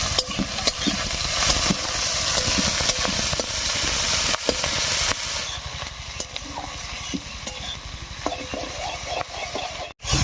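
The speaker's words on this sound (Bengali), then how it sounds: "আদা রসুন পেঁয়াজ লঙ্কা সবকিছু ভাজা হয়ে বেশ লাল লাল হয়ে গেছে" Chopped onion, ginger, garlic and green chili sizzle and fry in hot oil for soybean curry, a dense continuous crackle with occasional stirring scrapes, close and steady throughout.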